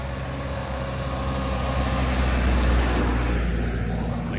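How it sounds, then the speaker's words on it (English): Steady city road traffic rumbles beside a park in Beşiktaş, Istanbul, a loud, continuous wash of passing cars and heavier vehicles with a deep low-end drone and no clear pauses. "you can hear too much traffic, too much city noise still."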